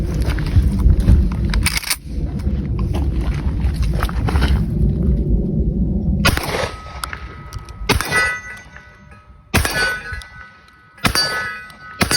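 Aksa Arms shotguns fired in a test session: about five loud, sharp blasts spaced a second or two apart, each with a ringing metallic tail and a rumbling background between shots.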